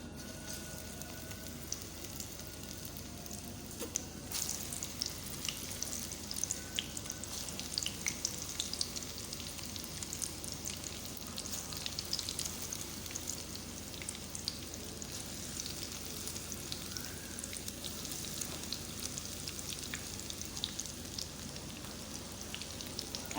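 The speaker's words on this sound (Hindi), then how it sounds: "अब पकौड़े डालना शुरू करें।" Vegetable pakoras, spinach among them, sizzle and crackle steadily in hot ghee in a pan over a medium-low flame, a continuous close frying hiss with popping bubbles and no talk.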